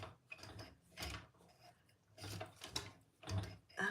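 A home sewing machine stitching in short bursts, a series of close mechanical whirring and clicking runs separated by brief pauses, with no voices.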